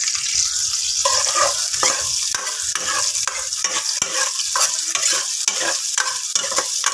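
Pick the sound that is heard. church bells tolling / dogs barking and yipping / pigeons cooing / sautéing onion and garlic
sautéing onion and garlic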